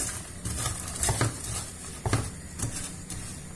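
A utensil scrapes and stirs hazelnuts through caramelizing sugar in a pan, giving rapid clattering, rattling strokes and soft sizzling in an uneven rhythm, close up and alone.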